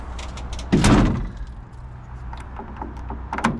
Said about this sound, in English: close up the engine compartment